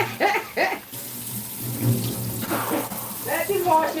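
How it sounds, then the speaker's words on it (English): Tap water running into a sink as someone washes hands in a kitchen, a steady hiss and splash close by, with people talking over it. "Let him wash his hands"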